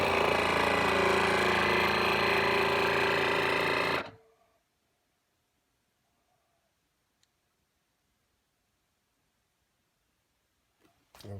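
A vacuum chamber sealer runs on a bag holding aged ribeye steak. Its pump drones loud and steady for about four seconds, then cuts off abruptly into near silence, with a faint click near the end.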